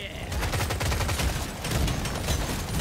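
Deployed engineer turrets in Deep Rock Galactic Survivor fire a dense, continuous stream of rapid shots, with layered pops and thumps over low rumbling impacts, loud and sustained.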